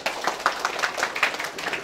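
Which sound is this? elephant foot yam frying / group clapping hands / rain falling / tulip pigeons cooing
group clapping hands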